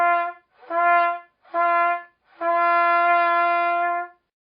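Trumpet notes started with breath alone and no tongue attack, two short soft-edged tones and then a long sustained one, each swelling in gently, played solo and close with no talking.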